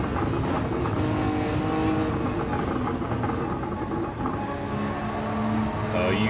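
A Nissan GT-R GT500 race car in Gran Turismo 7 during the 6 Hours of Suzuka endurance race, its engine a loud, steady, droning roar at high revs throughout.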